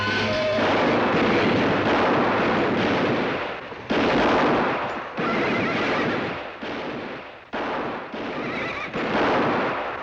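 Gunfire in a Western television drama, sustained loud shots and blasts filling the scene, with a horse whinnying early on amid the commotion.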